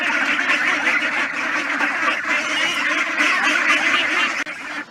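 A flock of ducks quacks loudly and continuously, many overlapping calls forming a dense, noisy chorus close by.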